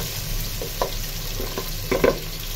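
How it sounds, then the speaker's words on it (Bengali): Onion frying in oil in a saucepan, a steady close sizzle with a few louder scraping stir strokes near the end. "পেঁয়াজটা একেবারে একটু ভাজা ভাজা হয়ে আসছে"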